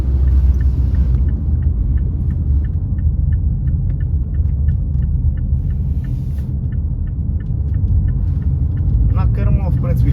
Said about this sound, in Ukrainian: 90-100 я відчуваю більше звуку від мотора, аніж а, ем, самої динаміки